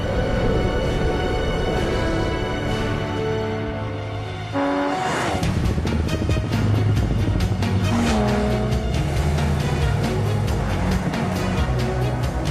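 A Singer-built Porsche 911 with a Cosworth-fettled 3.8-litre flat six making 360 horsepower, revving loudly and continuously up close with a buzzy engine note, gear changes and tire squeal, no talking.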